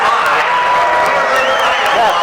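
At the 2014 NCAA wrestling championships, an arena crowd roars and cheers continuously with scattered claps and whoops, loud and sustained, while commentators talk over the noise.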